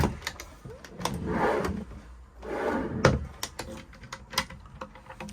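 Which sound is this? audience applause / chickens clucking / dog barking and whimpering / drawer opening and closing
drawer opening and closing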